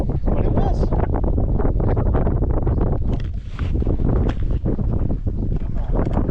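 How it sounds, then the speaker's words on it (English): Strong wind roars over open water on a cold day of redfish fishing in southern Mississippi, buffeting the microphone in a loud continuous rumble while a voice talks beneath it. "there's so much wind"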